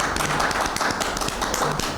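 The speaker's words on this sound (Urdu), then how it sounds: "ہم سب خود تالیاں بجا کر ایک دوسرے کو ویلکم کہیں گے" A studio audience at an Independence Day programme on Catholic TV claps together in welcome, producing a dense, steady patter of many hands that carries on through the whole stretch without any talk.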